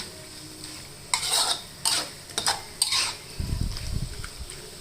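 A spatula scrapes through a bamboo shoot and pork belly red curry stir-fry in a pan, with a few sharp, evenly spaced stirring strokes followed by a low, steady bubbling after a splash of water.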